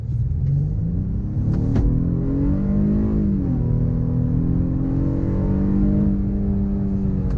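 A 2021 Honda Passport EX-L SUV accelerates hard in sport mode, its engine note climbing steadily through the gears with a brief dip at a shift, loud and close from inside the cabin.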